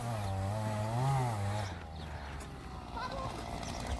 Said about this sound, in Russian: Решили начать пилить деревья.